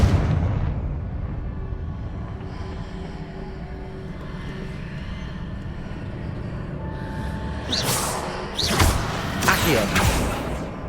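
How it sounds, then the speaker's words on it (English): A fiery spell explosion in the Hogwarts Legacy video game on Xbox: a steady low rumbling roar of ambience gives way to several sharp, loud blasts near the end. "Confringo!"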